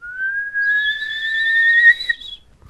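A single person whistles a clear, steady rising tone with a wavering higher overtone, alone in quiet, fading out after about two seconds.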